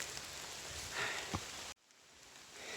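Steady rain falls on a hiking trail on the Appalachian Trail, a broad hiss of drops with a brief louder patch, then it cuts off sharply partway through into a quieter, softer wash.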